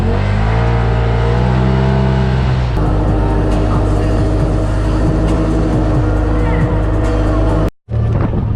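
A turbocharged Polaris RZR side-by-side on an outdoor ride, its engine loud and close with a droning rev that shifts pitch and holds a steady roar, then cuts out briefly near the end before resuming.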